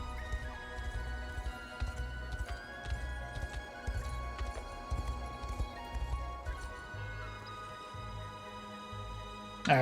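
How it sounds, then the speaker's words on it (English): A horse's hooves clip-clop in a steady rhythm through the Unicorn Overlord video game, with game music and chimes playing throughout and a louder clatter at the very end. "Horsey."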